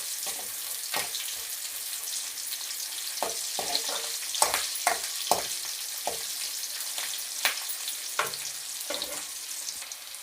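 Onions frying in a pan until golden for a village-style egg curry, a continuous close sizzle broken by repeated sharp scraping taps of a spoon stirring at irregular intervals.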